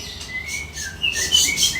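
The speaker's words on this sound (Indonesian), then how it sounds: "Frekuensinya itu menyerupai burung asli." A Monsergo electronic bird caller playing a trotol bird call: a series of bright, high chirps and short whistled tweets, loud and clear, repeating in quick bursts.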